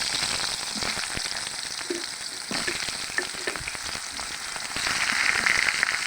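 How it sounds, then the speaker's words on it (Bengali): Pieces of pointed gourd (potol) fry in oil with a close, constant sizzle and crackle, mixed with scraping stirs, growing a little louder toward the end. "একইভাবে আমরা পটলগুলো ভেজে নিব।"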